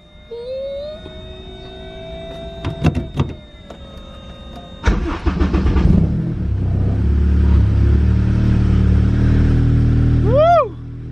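A Honda Civic EG hatchback engine cold-starts with a whine and clicks from the starter, then catches with a sharp burst and settles into a loud, steady high idle, with a bright chirp near the end.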